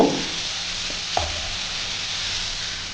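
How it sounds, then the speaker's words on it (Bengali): Potatoes fry in a pan for a kudri dish, a soft steady sizzle with a single scraping stir near the start, close and unbroken by speech. "তো মোটামুটি একটু আলুটা ভাজা ভাজা করে নিই"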